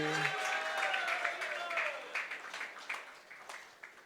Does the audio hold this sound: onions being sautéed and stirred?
no